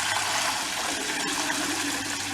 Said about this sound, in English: we'll fill the back of this up to show how to do a regular toilet flush